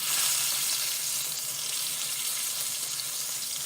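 A ribeye steak sizzles hard in a pan, a loud, dense, unbroken hiss that holds steady from start to finish with nobody speaking.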